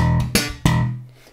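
Slap bass riff, played close and loud: a sustained low note broken by two sharp percussive slaps, then ringing out and fading.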